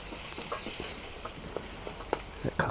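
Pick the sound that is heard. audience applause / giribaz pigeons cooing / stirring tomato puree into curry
stirring tomato puree into curry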